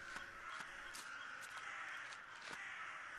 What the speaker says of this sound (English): No, that's the birds again.